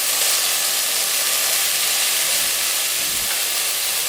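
Spot prawns sear in a smoking-hot Vermicular cast-iron pot, giving a steady, loud broadband hiss and sizzle throughout, with a brief low thump near the end.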